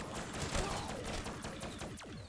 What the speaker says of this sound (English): Oh, fireworks. I was like, what is shooting out all those bullets?